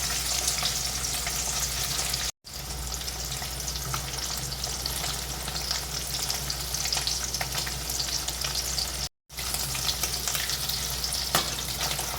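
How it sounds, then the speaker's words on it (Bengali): Loud, continuous sizzle of boiled egg pieces frying in hot oil, crackling steadily for several seconds with two brief cuts to silence. "আলু ভাজা তেলেই পিস করে রাখা সিদ্ধ ডিমগুলোকে এবার ভেজে নেব।"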